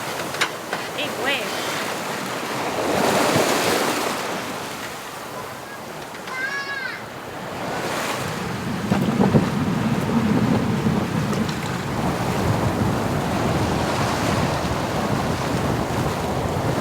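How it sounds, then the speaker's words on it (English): Big ocean waves rush and surge around a sailing boat off Bonaire, with a constant roar of wind and water that swells and eases throughout. "Big waves."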